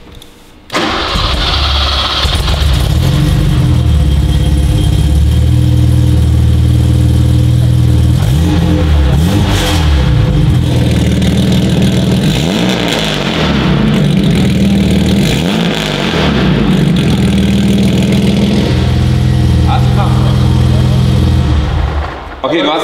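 An old BMW E28 fitted with air suspension cranks and catches, then settles into a loud, steady idle broken by several short revving surges, with some talk in the background.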